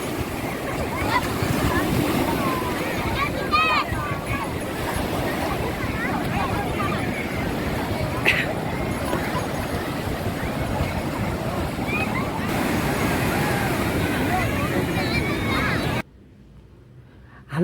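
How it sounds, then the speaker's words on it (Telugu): Roaring sea waves at RK Beach in Vizag make a steady, dense surf wash with wind buffeting the microphone, while people talk nearby, then it drops to near silence at the end. "సముద్రపు ఘోష మామూలుగా లేదు కదండి."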